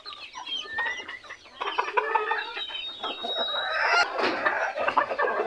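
Cochin and frizzle bantam hens and roosters released outdoors cluck and call in overlapping bursts, close and lively, with short sharp squawks scattered through the clip.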